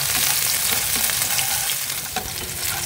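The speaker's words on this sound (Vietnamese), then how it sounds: "Cho ít dầu ăn vô chảo thì mình sẽ cho đầu hành vô mình phi cho nó vàng thơm á" Green onion heads frying in a little cooking oil in a pan, a loud, steady crackling sizzle that runs continuously and close up with no talking.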